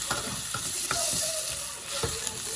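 Meat searing in a hot pan with a steady, loud sizzle and hiss, punctuated by a few stirring scrapes and taps, close up with no talking.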